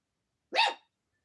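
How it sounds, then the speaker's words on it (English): A single short dog bark, close and fairly loud, standing alone against silence. "What are you barking about?"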